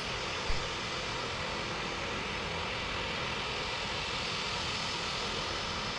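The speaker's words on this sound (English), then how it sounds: "Taxiing down the runway." Floatplane on pontoons taxiing along a runway, a steady broadband engine and propeller roar that stays loud and constant throughout, with one brief knock near the start.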